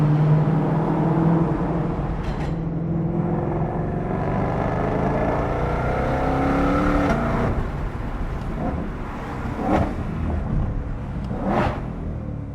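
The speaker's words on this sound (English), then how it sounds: "This is the stock exhaust." Stock exhaust of a 2022 Shelby GT500 rumbling and revving inside a tunnel, a steady loud engine drone with rising and falling pulls and a few sharp blips near the end.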